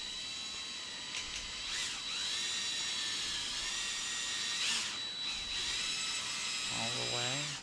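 A power drill whines steadily through a Cessna 172F cockpit panel, boring the hole for a headset jack. The high tone holds nearly the whole time, with brief pitch swells and a low rumble at the end.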